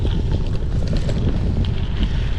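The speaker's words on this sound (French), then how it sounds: "Bon, le vent toujours présent," Steady, loud wind buffets the microphone during a gravel bike ride along a canal path, a dense low rumble with gusty swells throughout and no talking.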